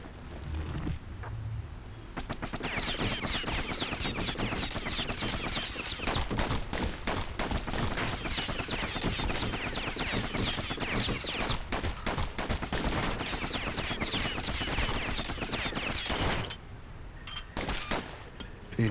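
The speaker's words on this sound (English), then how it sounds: "Know what's better than having a slinger pistol in a fight?" Slinger pistols fire in rapid, continuous volleys during a fight in the action game Bastion, a dense, loud rattle of shots with a few sharp bursts near the end and no talking.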